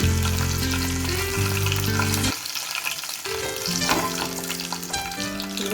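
Mustard seeds, cumin and split lentils fry in hot oil, giving a steady close crackling sizzle with busy popping that briefly thins out midway before resuming.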